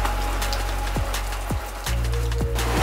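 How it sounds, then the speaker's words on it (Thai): Rain falling in a Borneo jungle in Malaysia during the rainy season, a steady dense patter with a few sharper drips and a faint tonal hum underneath. "บรรยากาศฝนตกในช่วงฤดูฝนของประเทศมาเลเซีย"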